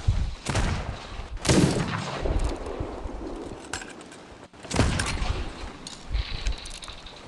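An enemy ship fires back during a Sea of Thieves naval fight, loud booming cannon blasts and gunfire arriving in several heavy bursts over rolling battle noise.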